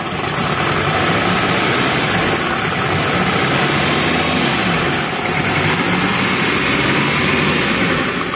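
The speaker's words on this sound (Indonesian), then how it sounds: "Kita coba gas-gas, itu seperti suara helikopter ya" Daihatsu car engine with a faulty spark plug revved and misfiring, a loud, continuous rough drone with uneven pulsing throughout, close and alone.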